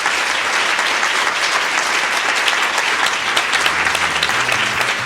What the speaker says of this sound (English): One last round of applause for our amazing students.